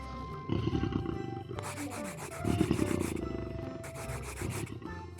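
A cartoon lion's deep, rasping snore rises and falls in long, rough breaths, repeating several times and filling the space.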